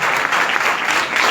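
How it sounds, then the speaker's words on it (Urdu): A burst of steady applause from a church congregation during an Urdu sermon, dense clapping at full volume throughout. "تالیوں کی آواز بڑی کم ہوتی ہے"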